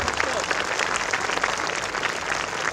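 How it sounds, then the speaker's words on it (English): Big round of applause from an audience at a school valedictory ceremony for graduating students, dense continuous clapping at steady loudness with crowd murmur underneath. "Can we give them a big round of applause?"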